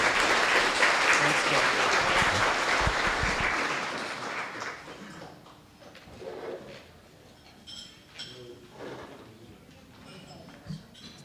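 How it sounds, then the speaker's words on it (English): Audience applause fills the opening seconds at a monthly professional association meeting, then fades into quieter room noise with scattered light knocks. "please help me give our speakers a round of applause"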